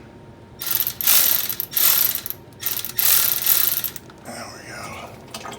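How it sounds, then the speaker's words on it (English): A ratchet wrench clicks in several quick bursts while loosening the front transfer case drain bolt on a GR Corolla, sharp and close, followed by a brief trickling and a short spoken remark. "I got the bolt broken loose, so now I can just get this draining out"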